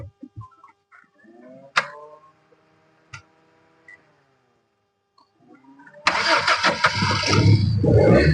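A vehicle engine in a garage coughs through a few failed cranks with birds and a rooster faintly around it, then catches and roars into a loud, steady close idle for the last couple of seconds.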